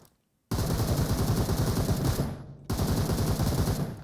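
Rapid automatic gunfire in PUBG Mobile, two loud close bursts of rattling shots separated by a short pause after a brief silence.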